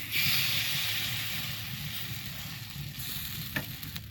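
Flour batter for a date-jaggery pitha sizzles in an oiled pan, a soft, steady frying hiss with faint stirring scrapes and a light tap near the end.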